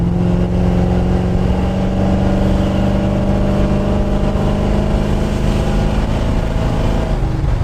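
A 1974 Stingray Corvette's big block engine rumbles steadily up close, a loud deep continuous drone with low throbbing harmonics and no speech over it.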